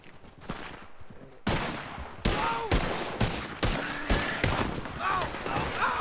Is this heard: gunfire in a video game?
yes